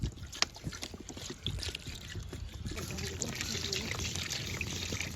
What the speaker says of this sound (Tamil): தண்ணி ஊற்றி நல்லா வேவடிக்கும்